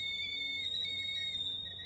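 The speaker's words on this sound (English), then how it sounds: "Painful whistles in my ear." A painful, steady high-pitched ringing whistle from The Medium video game holds almost unchanged for about two seconds over a low hum, with no speech.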